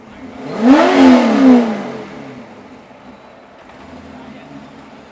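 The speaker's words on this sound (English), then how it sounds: "Rev it! Turn it on! Cold start!" An exotic car engine at the SEMA show gives one loud, close rev that swells and falls over about two seconds, then settles back to a quieter idle.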